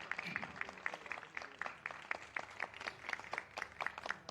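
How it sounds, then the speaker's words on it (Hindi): Steady applause from a crowd, a continuous patter of many hands clapping with rhythmic peaks, moderately loud and without any talking. "बहुत सारी तालियां।"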